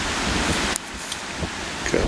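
Outdoor wind buffets a microphone during a mineral hunt, giving a steady broadband roar for the first stretch, then softer gusty rumble with a few brief knocks and rustles.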